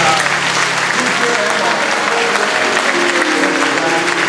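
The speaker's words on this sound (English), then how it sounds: "Give another round of applause." Enthusiastic crowd applause fills a Catholic church during Mass at Saint Dorothy in Chicago, Illinois, a dense, steady wash of clapping that stays loud and unbroken from start to finish.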